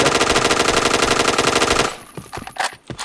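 WR4 rifle gunfire in a shooter video game, a loud sustained rapid burst of automatic shots for about two seconds, then a few scattered sharper shots and game sounds.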